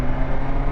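BMW S1000XR motorcycle engine droning loudly and close during a quick-shifter gear change, a brief steady burst of engine sound with no voices.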